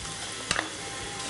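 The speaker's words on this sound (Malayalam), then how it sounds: "ഇനി നമ്മൾ മെയിൻ ഇൻഗ്രീഡിയൻ്റ് ആയ ഈന്തപ്പഴം ചേർത്ത് കൊടുക്കുകയാണ്." Dates dropped into hot spiced oil for a pickle, giving a steady low sizzle with a brief louder burst of hissing and a couple of clinks as they land, then the frying settles back to an even hiss.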